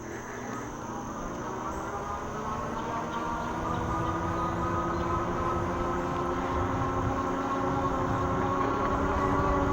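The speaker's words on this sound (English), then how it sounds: "I'm just gonna twist the throttle and see if this baby will do it." Electric bike motor under throttle alone, climbing a steep hill without pedaling at about 12 mph, a steady rising whine with low rumble and wind, continuous and close throughout.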